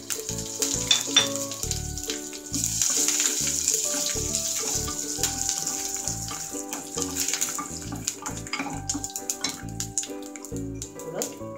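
Curry leaves fry in hot oil for Karnataka-style vangibath, a steady bright sizzle running through the whole stretch beneath prominent background music.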